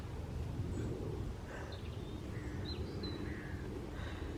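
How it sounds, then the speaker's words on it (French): A bird calling in the woods at night: a few faint, scattered caw-like calls over a low, steady outdoor background hiss, with no speech. "Quel oiseau fait comme ça?"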